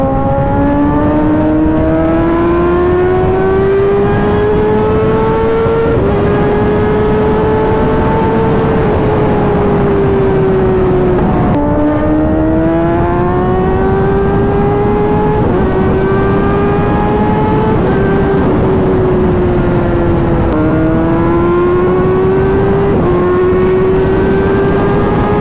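A motorcycle engine revs up through the gears repeatedly, pitch climbing then dropping at each shift, loud and close, sustained over a long ride.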